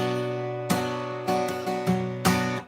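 An acoustic guitar strums barre chords in a down-up pattern, five sharp attacks ringing close and clear with sustained chords between strokes, no voice.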